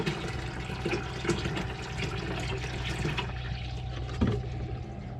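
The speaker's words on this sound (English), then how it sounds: "I'm going to just fill some buckets up while we're filling the tanks" Water runs from a tap into buckets and tanks aboard an anchored boat, a continuous close gushing and splashing with a low hum beneath and a brief knock near the end.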